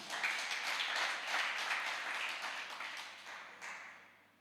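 Worshippers at an Indonesian GBI church service give a round of hand clapping, a steady, moderately loud patter that rises briefly near the end before fading away.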